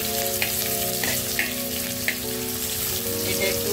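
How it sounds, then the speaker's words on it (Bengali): Chopped onions sizzling in hot oil with sugar caramelised red, a steady loud frying hiss with faint stirring scrapes and a low background hum. "চিনিটা মোটামুটি যখন লাল হয়ে এসছে তখন আমি পেঁয়াজগুলো ছাড়ছি।"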